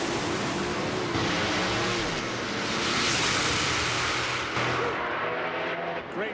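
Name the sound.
top alcohol dragsters racing side by side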